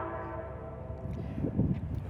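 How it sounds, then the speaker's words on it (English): Train horn blaring as a train passes close by, a sustained tonal blast with rumbling rail noise beneath, swelling louder toward the end over about two seconds. "this train's gonna go by us, and he's just hitting the horn"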